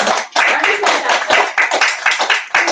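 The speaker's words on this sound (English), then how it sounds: "Let's give them a round of applause." Audience round of applause at a live evening event, a dense, steady burst of many hands clapping close and loud, with a few voices mixed into the noise throughout.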